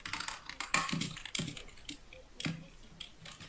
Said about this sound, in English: I'm actually typing.